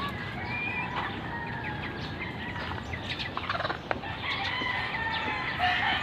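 A flock of chicks and chickens clucking and peeping continuously, with overlapping calls at moderate distance and some sharper squawks, with no talking.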